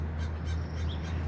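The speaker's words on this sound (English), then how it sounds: "That crowing crow, you hear him?" A crow cawing from the trees near a road, a few faint rough calls over a steady low traffic rumble from wet tires.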